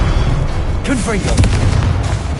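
A Confringo fire spell bursts in Hogwarts Legacy with a loud boom and a rumbling blast amid combat noise, and a short spoken exclamation is heard over it.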